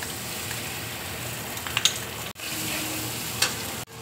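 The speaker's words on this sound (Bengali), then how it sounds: "মশলাটা আমি দিয়ে দিচ্ছি।" Spice paste hits lightly fried onions in a hot pan for a veg egg curry, giving a loud, steady sizzle with scraping stir sounds and a couple of brief clinks, no talking.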